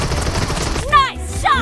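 Rapid gunshots from PUBG Mobile gameplay, a quick burst of sharp, loud reports ringing out over a busy in-game background.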